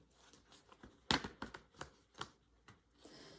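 Tarot cards being shuffled by hand close up, a quiet run of crisp riffling slaps and papery flicks in uneven bursts, with no talking.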